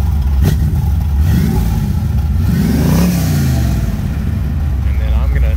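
A 1969 Camaro engine revs through its exhaust in a few rising and falling bursts, loud and close, with a deep burbling tone and people talking over it.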